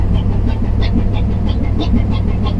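A ship's engine runs dead slow astern during maneuvering, giving a steady low rumbling hum with a faint rhythmic throb throughout and no talk.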